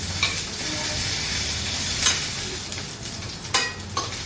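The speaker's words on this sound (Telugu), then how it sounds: "మిరపకాయలు తెల్లరంగు వచ్చే వరకు వేపాలి." Dried red chillies fry in hot oil for coconut chutney, giving a steady, close sizzle with sharp pops and spatters scattered through it.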